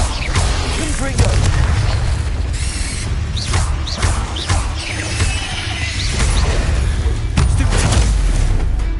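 The Confringo blasting spell in Hogwarts Legacy erupts in loud, rumbling booms and crashing bursts over a heavy low roar. Several sharp impacts hit across a sustained, dense wash of noise, with faint voices mixed in.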